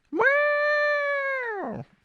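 A person vocally imitates a long sustained horn intro, producing a single steady, cat-like wavering tone held for about one and a half seconds, close and loud, with no other sounds around it.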